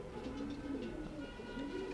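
A male breeder racing pigeon of the Silvie line coos in low, repeated rolling phrases close by, steady throughout with faint background hum and no talk.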